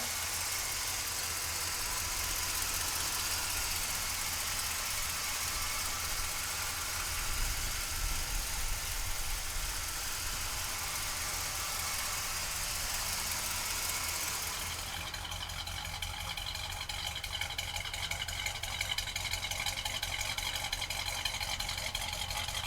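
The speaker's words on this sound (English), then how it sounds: "We're gonna pop the hood and fire up that motor." The engine of a 1970 Oldsmobile Cutlass idles under an open hood with a steady, rough rumble and a light mechanical rattle, and the tone shifts slightly partway through. No one speaks.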